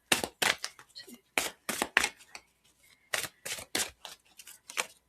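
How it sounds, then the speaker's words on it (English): A deck of angel oracle cards being shuffled by hand, a series of short crisp riffling bursts in an uneven rhythm with brief pauses between them, close and fairly loud. "so I'm going to shuffle 5 times."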